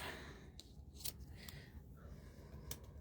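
A few quick, crisp snips of scissors cutting a small piece of card stock for handmade card making, close and fairly quiet over low room hum.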